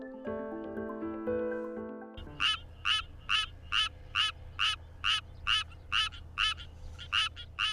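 After a few seconds of musical tones, a tree frog in Korea croaks in a rapid, regular series of loud, rasping calls, repeating about twice per second.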